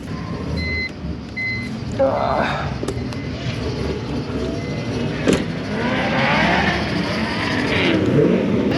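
Another car's engine revving at a drift event, heard as loud surging swells over a steady background of motor noise and rumbling, with one rev early on and a longer, stronger climb near the end.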